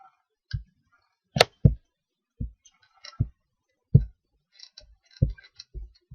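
Keys are pressed one at a time on a computer keyboard while a name is entered into a text field, giving sparse, crisp clicks with short pauses between them in an otherwise quiet room.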